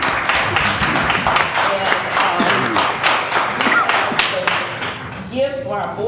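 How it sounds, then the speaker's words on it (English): Audience at a school district board of education meeting applauding the board, a dense run of claps and thumps with a voice speaking over it near the end. "we just want to applaud our board for all they do for us all the time"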